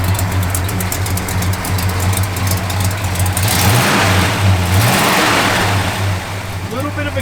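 A 1969 Dodge Charger V8 with a mild cam revs up and settles back, loud and close, the lumpy idle rising twice in throaty bursts.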